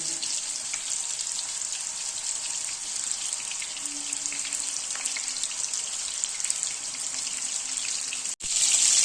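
Shish kebabs frying in a pan of warm oil over medium heat, a steady close crackling sizzle throughout, briefly interrupted by a short clatter near the end.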